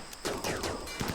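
A quick burst of gunfire from the video game RimWorld: a few rapid, clipped shots in close succession, loud and crisp over about a second.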